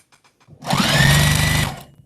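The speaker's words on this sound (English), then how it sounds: "I'm just going to sew the corner there." Sewing machine running one steady burst of about a second, stitching a corner seam through two hefty strips of scrap cotton fabric placed right sides together, close and fairly loud, preceded by a few faint ticks.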